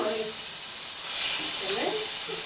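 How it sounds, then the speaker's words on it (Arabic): Liver and gizzards fry in butter and oil with a steady, close sizzle while a person talks over it. "انزل بقى بالكبد والقوانص بتاعتي، اديها صدمه كده حلوه"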